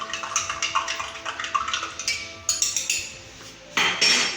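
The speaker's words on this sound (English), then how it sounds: "I'm going to stir this quickly." A spoon stirs water into pizza dough in a bowl, giving quick rhythmic clinks and scrapes against the bowl, close and clear, with a wetter sloshing burst near the end.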